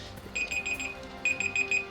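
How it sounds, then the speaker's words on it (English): Beeping timer alarm ringing in two short bursts of rapid, high electronic beeps, clear and close above a faint background of game music. "looks like that is our timer."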